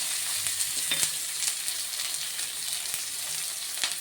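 Onion, chana dal, urad dal, mustard seeds and two chillies sizzle steadily as they sauté in a pan, with a few sharp crackles and stirring scrapes over a continuous frying hiss, close and moderately loud, no talking.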